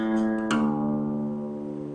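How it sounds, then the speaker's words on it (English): Acoustic guitar plays a short bass-note run from a blues song, a plucked low note ringing out with sustained harmonics, close and clear. "a series of 4 notes in the bass, and it'll sound like this."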